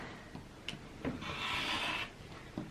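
Quilt block fabric is trimmed with one brief, close rasping cut lasting under a second, surrounded by a few soft handling taps in a quiet room.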